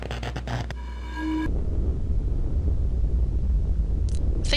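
Rumbling lava in the Myst video game, a low, steady, dense roar that swells in after a brief tonal sound and continues loud and even to the end.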